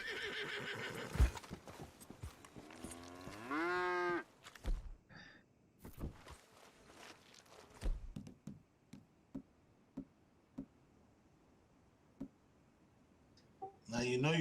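Horse from Red Dead Redemption 2 whinnying loudly near the start of the game audio, with hoof clip-clops and scattered knocks and thuds following; a voice talks over parts of it.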